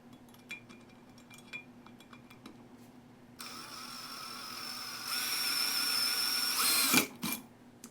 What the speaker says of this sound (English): drilling out the oil drain hole to a 5/16 so the oil could flow a lot better